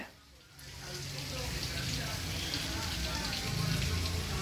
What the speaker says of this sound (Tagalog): Dahil umaambon na